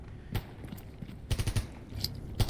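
Gunfire crackles in the survival shooter STALKER GAMMA: a single sharp shot, then a quick burst of four rapid shots, and another short burst, sounding moderately distant over quiet ambience.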